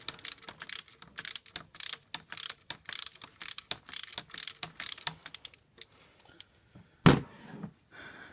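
A jubilee clip on the EGR cooler pipe of a Volvo 2.4 D5 diesel is loosened, giving rapid close ratcheting clicks in quick bursts, then a single louder clunk near the end.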